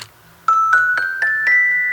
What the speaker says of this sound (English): Here I have Celesta, I think you pronounce it like this. It looks like this, like a piano,